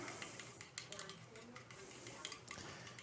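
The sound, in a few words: mixing eggs, milk and quinoa for a frittata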